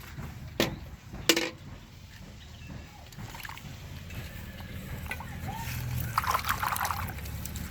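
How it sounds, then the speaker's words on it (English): Harvested maize being washed in water in an African village kitchen garden, with close splashing and dribbling, a couple of sharp knocks early on, then steady sloshing that grows slightly louder toward the end. "You have to thoroughly wash them."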